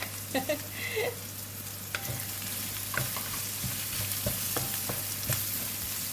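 Ghee sizzling in a pan with brinjal, a steady hiss under intermittent clicks and stirring knocks, close by, with a brief higher tone at the start.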